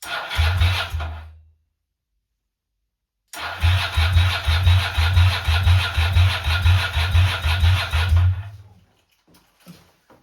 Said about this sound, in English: it was time to hold my breath and crank the bike over.